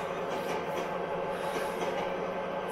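A train rolls along the rails in Train Simulator on the Cajon Pass route, travelling slowly at night. Its steady rumble and rail drone run alone and continuously at an even loudness.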